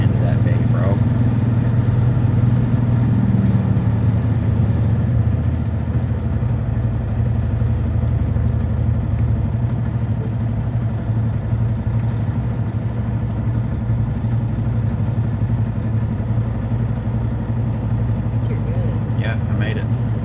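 Truck idling and creeping as it is backed into a parking bay, a steady low engine rumble throughout, close and constant, with people talking over it.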